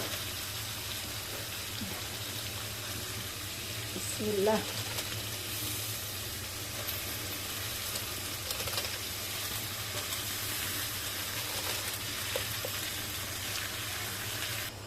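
Cabbage fries with chicken feet in a pan, giving a soft, steady sizzle with a brief stirring clatter and faint background noise.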